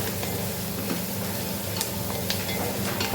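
Onions fry with allspice in a pan for Goan coconut rice, giving a steady close sizzle with occasional stirring scrapes throughout, no talk.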